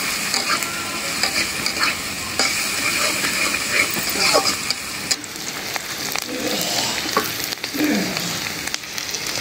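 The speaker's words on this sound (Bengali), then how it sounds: "পেঁয়াজ, রসুন, কাঁচামরিচ ভাজা হয়ে গেল।" Onion, garlic and green chili frying in a pan, with a steady dense sizzle and occasional stirring scrapes, close and continuous throughout.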